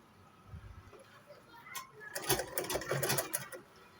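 A domestic sewing machine top stitching a side pocket, running in a quick mechanical whir from about two seconds on after a short quiet start with faint handling noise.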